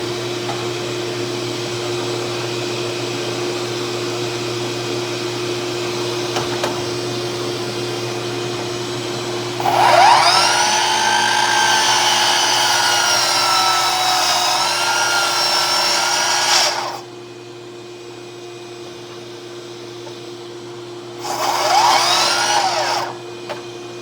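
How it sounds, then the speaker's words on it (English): A miter saw cuts pieces of wood for a walnut humidor build, its motor rising into a loud whining buzz for a long cut, dropping away, then a second shorter burst, with no voices. "Now I'll take this over to the miter saw and I'll start cutting those."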